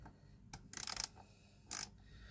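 An 8 mm wrench works loose a brake fitting on an SR 125 scooter during a brake fluid job, giving a few short, close metallic clicks and rattling bursts against a quiet background.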